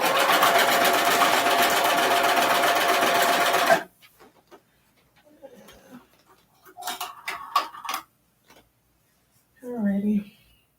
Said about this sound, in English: The cover hem machine. So once I actually start sewing,